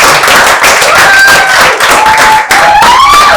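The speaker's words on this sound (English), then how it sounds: "I would like us all to just give her a round of applause" Applause and scattered clapping from an audience at a film press event, loud and close, with whoops and cheering voices rising above the clapping.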